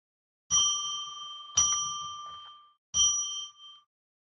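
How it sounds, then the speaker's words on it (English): A bell rung three times in slow succession, each clear metallic strike ringing out and decaying before the next, close and alone in a quiet room, used to open sacred space. "I'm going to ring the bell 3 times to declare sacred space."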